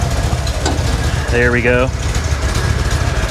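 An air-cooled 1979 Porsche 911 Targa engine, running cold, idles with a steady, loud, low rumble throughout as someone speaks briefly over it.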